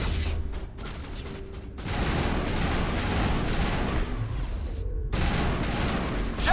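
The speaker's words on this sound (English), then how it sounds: "Open fire!" Gunfire rages in a Mass Effect Legendary Edition firefight, with dense rapid shots and crackling bursts filling the scene loudly, broken by a short lull before the shooting resumes.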